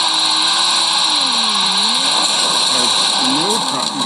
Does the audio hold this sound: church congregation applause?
no